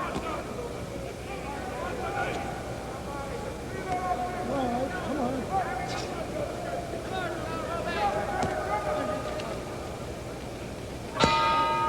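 At the end of round eight in the Hurricane Carter vs Ellis boxing match, the ring bell strikes once with a sharp metallic clang. It cuts through steady crowd noise and a commentator talking underneath.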